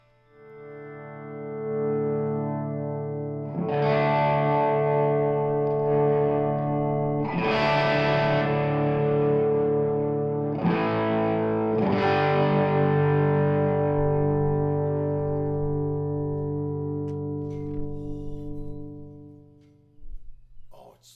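A heavily distorted electric guitar plays sustained, crunchy chords and notes through an amp, loud and ringing, fading out at the end.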